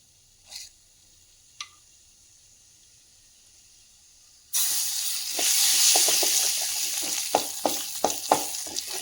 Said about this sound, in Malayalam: ഇതിലേക്ക് തന്നെ കുറച്ച് ജീരകം കൂടി ഇട്ട് കൊടുക്കുകയാണ്.